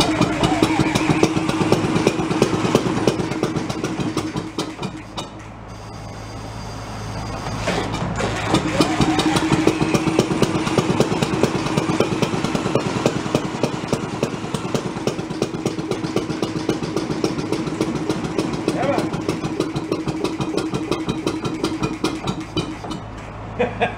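A broken antique Gile marine engine runs close to idle, chugging in a steady loud rhythm with a slight dip in pace partway through.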